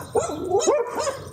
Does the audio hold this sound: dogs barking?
yes